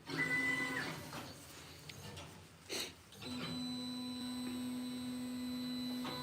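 A CNC plasma table runs a dry run with the torch off, its drive motors giving a steady, close mechanical whine that holds evenly for several seconds after a short stretch of rustling and handling noise.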